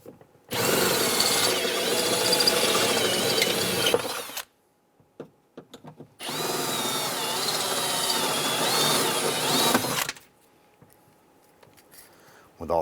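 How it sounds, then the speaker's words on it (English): A power drill bores out rivets on a 1995-2001 Ford Explorer window regulator in two loud, sustained bursts of a few seconds each, separated by a brief pause with faint clicks. "We're going to go ahead and drill out the other 3 rivets."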